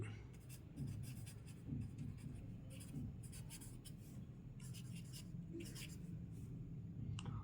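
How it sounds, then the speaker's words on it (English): Steady writing on a board during a chemistry lesson on quantitative analysis of organic compounds: continuous faint scratchy strokes with short pauses, close but quiet over a low room hum. "I am clearly writing here, just observe that"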